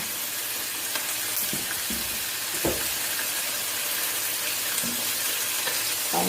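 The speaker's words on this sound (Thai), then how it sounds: "ผัดได้เลยนะคะ" Pork ribs stir-frying with garlic over high heat, a steady close sizzle with occasional scrapes of the spatula against the pan and no talking.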